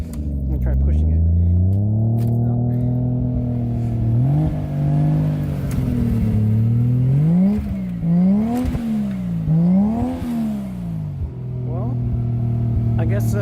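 Nismo car stuck in a snowy driveway, engine revving repeatedly with rising and falling pitch as the wheels spin, loud and close, with people talking over it.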